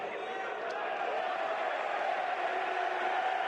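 An arena crowd murmurs and cheers in a steady wash of noise at a professional darts match between Raymond van Barneveld and Adrian Lewis, with a commentator talking over it.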